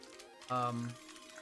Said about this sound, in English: so this guy's typing